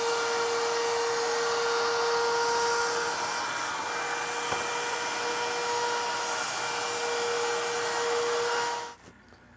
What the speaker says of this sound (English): I'm going to use a chamfering bit to go with the chamfer that I've cut on the inside edges